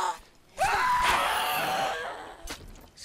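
Zombies in the video game Dead Island Riptide let out a long, strained, rising scream that fills most of the moment, followed by a short second cry near the end, with no talk over it.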